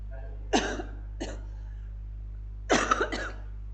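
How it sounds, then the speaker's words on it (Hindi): Three coughs from one person, close to the listener: a sharp cough, a lighter one shortly after, then a stronger double cough, over a low steady hum. "कई बार खांसी आने लग जाती है ना, बहुत आती है"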